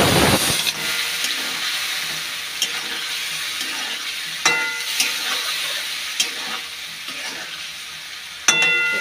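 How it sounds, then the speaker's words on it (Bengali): Food sautés in a pan with a steady hiss, punctuated by sharp metallic scrapes and taps of a spatula at irregular intervals, heard up close without speech. "একটু ভালো করে কষিয়ে নিই।"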